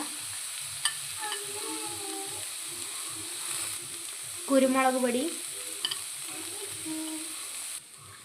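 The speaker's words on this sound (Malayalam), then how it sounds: "എല്ലാ ഇട്ട് നന്നായിട്ട് മിക്സ് ചെയ്ത് കൊടുത്തിട്ടുണ്ട്" Chilli powder, turmeric and chicken masala are stirred into a hot pan with a soft, continuous sizzle and scraping spoon strokes, with a louder stirring burst midway while a voice speaks briefly.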